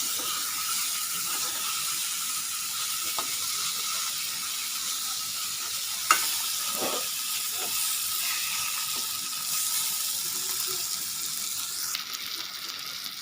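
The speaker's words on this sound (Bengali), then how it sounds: "মশলার সঙ্গে মাছটা এরকমভাবে কষিয়ে নিয়ে" Snakehead fish sautéing with spices in a pan for a kalia curry, a continuous loud sizzle and hiss with a few faint utensil knocks, no voices.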